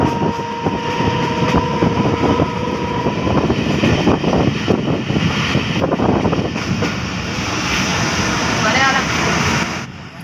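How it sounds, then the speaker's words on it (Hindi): A Marvi passenger train rolls into Chhor railway station with a loud, continuous rumble and wind-buffeted rush, a brief steady tone early on, and someone talking over the noise throughout. "हमारी मंजिल छोर रेलवे स्टेशन आ गई है और ट्रेन यहाँ पर स्टॉप करेगी"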